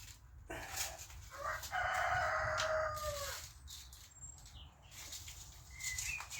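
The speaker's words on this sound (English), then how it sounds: "cockerel's making a bit of noise today" A rooster crows once, fairly close and loud, with wing flaps and faint clucking around it.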